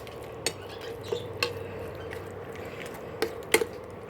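Thick curd stirred into a carrot and beetroot pachadi, soft wet squelching with a handful of light spoon taps against the bowl, close and quiet with no talking.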